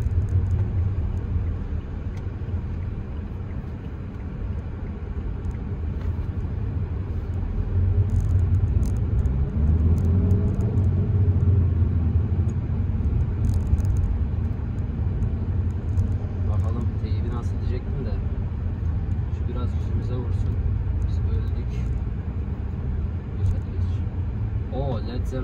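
A Fiat Egea Cross 1.6 automatic with 130 PS drives over a rough, broken road, its steady low engine and road rumble loud and continuous from inside the cabin while someone talks over it.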